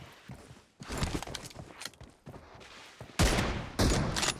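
Rapid bursts of gunfire in a PUBG Mobile match, a close sharp volley loudest near the end, with scattered shots and footstep-like clatter between bursts.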